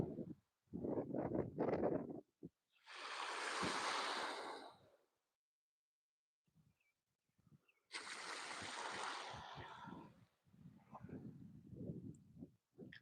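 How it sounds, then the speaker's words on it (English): Gusty wind buffets a beach shore where ocean waves churn, coming in two long broadband roaring bursts with a quiet gap between, while low rumbling handling noise and a voice murmur near the start and end. "it's pretty windy out here"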